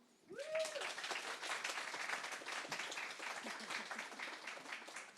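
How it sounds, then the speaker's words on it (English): An audience at a memorial trans talk breaks into applause, a full, sustained wash of many hands clapping that starts just after a brief tone and holds steady, fairly soft and distant. "Round of applause."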